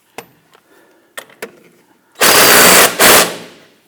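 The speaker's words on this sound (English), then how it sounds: "I'm going to put an 18mm wrench on the nut" An 18mm wrench tightening the nut on the pinch bolt of a 2006-2010 Hummer H3. A few sharp metallic clicks come first, then two loud, close, rattling bursts of about a second and a quarter-second.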